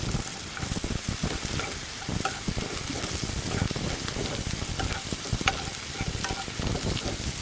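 About twenty cashew nuts fry in a pan for butter chicken, a dense, steady sizzle with scattered pops and the clatter of stirring, close and with no voices.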